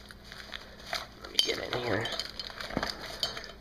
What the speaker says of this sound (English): And in here, this is my cook kit that I use.